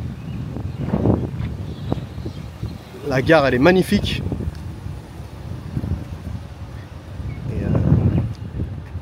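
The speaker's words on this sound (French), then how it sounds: "Il y a du vent les gars, j'espère que vous allez bien m'entendre." Outdoor wind buffets the microphone with a steady low rumble near a train station, rising in gusts beneath someone speaking French throughout.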